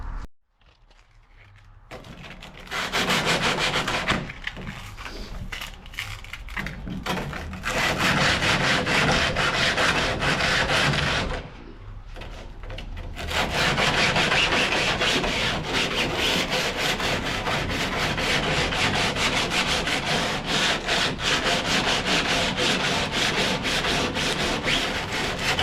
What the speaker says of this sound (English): I'm gonna start sanding all this by hand as smooth as possible